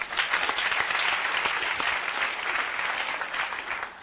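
A meeting audience applauds steadily and fairly loudly for about four seconds, a dense wash of many hands clapping with no voices standing out.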